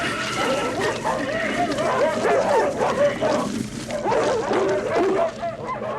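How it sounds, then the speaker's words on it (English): Several dogs barking and yelping together in a scene from the film The Thing, a busy, overlapping chorus of barks that stays loud throughout. "Now they all start barking."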